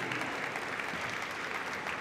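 An audience at a university graduation ceremony applauds continuously, a steady, moderately distant wash of many clapping hands.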